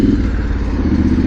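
A modified motorcycle engine fitted with a camshaft, a K&N air filter and a remapped ECU runs at a steady, loud, close-up rumble with a throbbing low-pitched tone and no talking.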